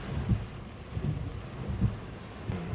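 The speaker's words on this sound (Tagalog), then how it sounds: "Lakas ng ulan." Heavy rain pours during an outdoor game, heard as a steady low rumbling wash with dull thumps, fairly loud and without clear voices.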